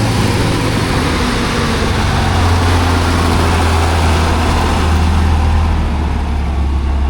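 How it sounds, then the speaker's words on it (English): An International Harvester 1566 farm tractor runs at a county fair tractor race, its loud, heavy diesel engine droning continuously with a deep low rumble and a broad roar throughout. "He doesn't know his tractor's being raced right now."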